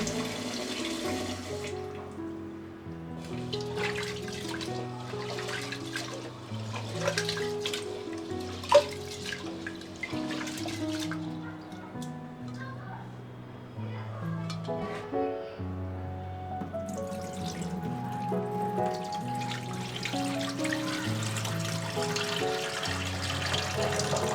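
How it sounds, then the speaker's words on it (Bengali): Rice and lentils are rinsed under a running tap, with a steady stream splashing into a vessel and hands swishing the grains and water throughout. "এখন আমি চাল আর ডাল খুব সুন্দর করে পরিষ্কার করে নেব।"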